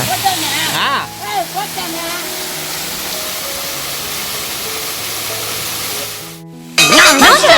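A waterfall rushes in a steady, loud hiss throughout, with voices talking over it at the start and end.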